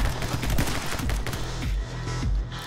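Rapid bursts of gunfire from a newly acquired gun in the shooter game My Friend Pedro, loud and close, with shots fired in quick repeated volleys throughout.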